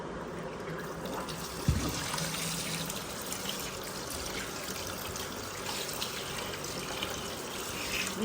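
Water runs and trickles steadily as rice is washed by hand in a kitchen, a continuous wet swishing with a faint knock near the start and no talking.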